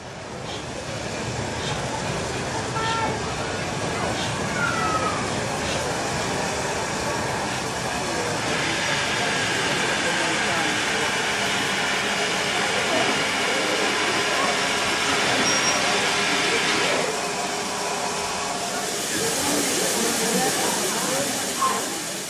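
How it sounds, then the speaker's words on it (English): An LMS 7F class steam locomotive works past with a sustained roar and hiss of steam, its rumbling carriage noise continuing for the whole stretch and swelling into a brighter hissing burst toward the end. "A much older class of LMS locomotive is the 7F."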